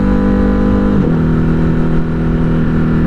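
A Ducati Hypermotard 950 RVE motorcycle accelerates hard, its loud engine note climbing, then briefly dipping at a quick-shifter upshift before pulling strongly again.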